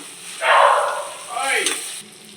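Spices and tempering roasting in a pan for upma, soft sizzling and stirring in two brief swells at moderate volume, with a voice talking over it.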